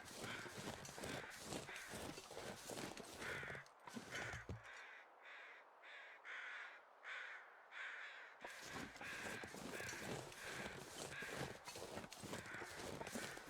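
Crows cawing in The Long Dark, harsh repeated caws in an irregular rhythm from several birds, loud and close, with a brief quieter gap before the cawing resumes.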